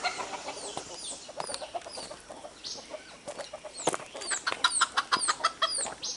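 A flock of hens clucks and squawks close by, a dense run of short overlapping calls that grows busier and louder toward the end, with no talking.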